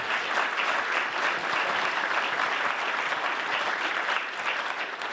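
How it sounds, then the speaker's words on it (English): An audience at an Opportunity Zone conference gives a round of applause, a dense and even wash of many hands clapping that holds steady throughout and eases a little at the close. "Can we give them a round of applause?"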